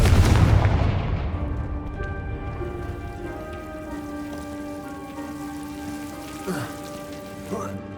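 A Confringo fire-blast spell explodes in Hogwarts Legacy with one loud booming burst up front that rings out and fades into a long shimmering, humming tail, with faint thuds later.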